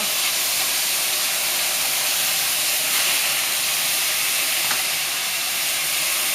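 Olive oil and a knob of butter sizzle in a pan while mushrooms cook, a continuous close hiss with steady, even intensity throughout.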